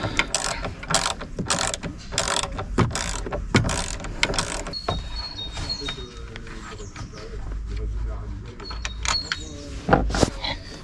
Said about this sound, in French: Donc là on la dévisse.